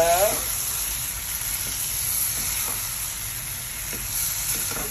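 Prawns and sambal sizzle loudly in a hot pan as they are stirred, a close, continuous frying hiss with occasional scraping strokes, while someone briefly talks.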